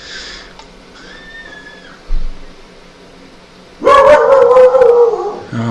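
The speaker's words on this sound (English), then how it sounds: "Oh my god, this bloody dog." A dog in the room gives a brief bark, then bursts into a loud, close, drawn-out howl over a quiet game soundtrack.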